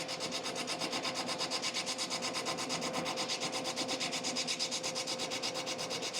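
Machine cutting a metal workpiece square, a fast, rhythmic rasping scrape that repeats in even pulses, close and steady throughout with no talking.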